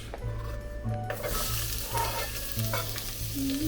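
Onions fry in a pot with pork for fried cabbage, giving a loud, steady sizzle with occasional stirring scrapes and a faint tonal hum beneath, close and continuous.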